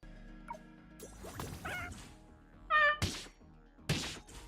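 Chickens in the video game Honkai Impact 3rd give a few brief cat-like meows between soft combat thuds and hits, faint and spaced apart over a quiet game background.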